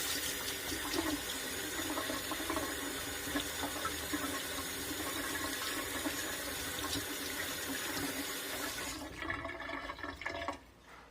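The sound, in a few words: hot water running from a tap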